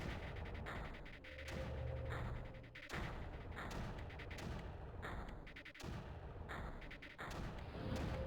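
Repeated mortar shots from the game Creeper World thump out in a steady series of booms over about eight seconds, loud and near, with dense overlapping bursts and no talking.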